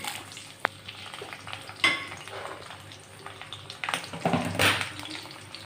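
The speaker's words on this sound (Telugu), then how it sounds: "కొద్దిగా కరివేపాకు ఇవి ఫ్రై అవ్వాలి" Peanuts, chana dal, green chillies and dried red chillies frying in a pan of oil for curry leaf rice, with a soft steady sizzle, occasional stirring scrapes and a few clinks of the utensil against the pan.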